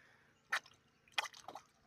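A pet goose splashing in a large outdoor puddle: a few separate wet splashes and drips with quiet gaps between them, close by and faint.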